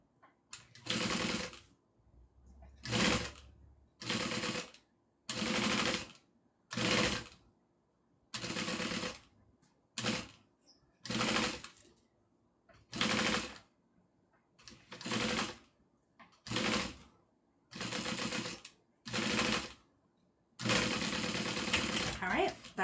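Sewing machine stitching a satchel handle, running in a dozen or so loud, close bursts of rapid mechanical whirring separated by short pauses, with the final run longest.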